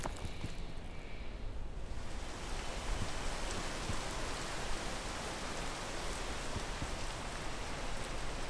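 Steady rain falls in a video game, a dense, even hiss of raindrops that swells slightly after the first couple of seconds and then holds constant with no voices over it.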